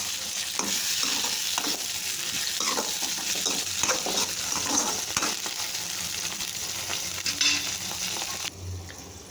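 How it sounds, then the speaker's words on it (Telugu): Onions and tomatoes fry in oil for a sweet corn curry, giving a steady close sizzle with spoon stirring and scraping throughout. The sound drops off abruptly near the end. "ఈ టమాటాలు కూడా బాగా ఉడికించేసుకోవాలి ఆయిల్లోనే"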